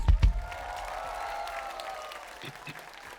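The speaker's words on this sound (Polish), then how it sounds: "jeszcze raz wielkie brawa dla Was samych!" Concert audience applauding in the Kozienice amphitheatre at a reggae band's tribute show, a steady wash of clapping after a brief louder burst at the start, with faint voices mixed in.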